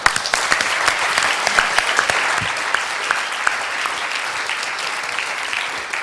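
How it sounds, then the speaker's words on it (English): Audience applause after a talk at a Peace One Day event, a dense, steady burst of clapping from a crowd in a hall, filling the whole clip with a few sharper individual claps standing out. "A round of applause"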